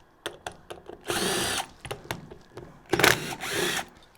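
A power tool removing bolts from a transmission front pump gives short whirring bursts and clicks, with a couple of longer, louder runs between quick taps, close and clear with no voices.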